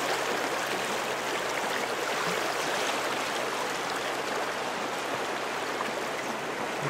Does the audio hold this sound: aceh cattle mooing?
no